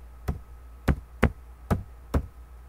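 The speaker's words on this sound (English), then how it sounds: "You might be hearing me slamming the keys" Five sharp, hard knocks of laptop keys being struck at a steady, unhurried pace, close by, with quiet between each strike.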